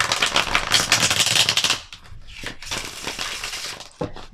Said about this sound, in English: Give these a good shuffle too.